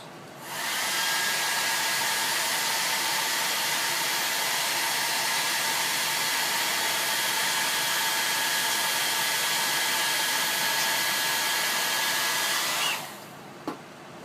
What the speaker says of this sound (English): I'm going to hurry and blow dry this.